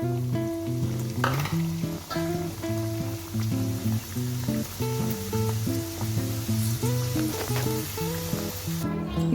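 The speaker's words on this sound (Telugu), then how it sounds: "ఇలా అవుతాయండి ఆయిల్లో వేసిన తర్వాత. ఆయిల్ కొంచెం హీట్ ఎక్కువ ఉండాలి" Snack mixture deep-frying in hot oil for a shop-style namkeen gives loud, continuous bubbling sizzle close by, with stirring scrapes and a steady backing tone running throughout.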